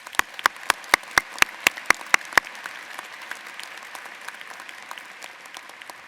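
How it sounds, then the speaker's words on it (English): Applause for PhD graduates at a university commencement ceremony: a run of about ten sharp, evenly spaced claps up close, then a softer spread of clapping and crowd noise fading out. "Let's give them another round of applause."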